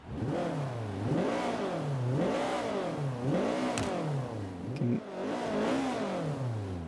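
Honda Civic CRX Mugen engine in Forza 5 revs up and down in repeated, rhythmic surges, a loud continuous mechanical roar with a brief clatter partway through.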